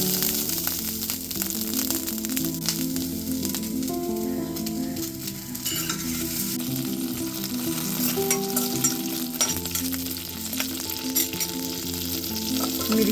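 Green chillies roast in hot oil in a covered pan, a continuous loud sizzle and crackle with sharp pops and spatters running throughout, no voices.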